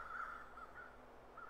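Crows caw in the snowy wilderness video game The Long Dark. A few faint, distant caws repeat over a steady low wind-like drone.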